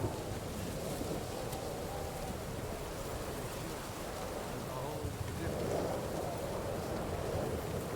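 Storm wind and rain roaring steadily inside a cave in a video game, a dense continuous wash of noise that stays loud and unbroken throughout.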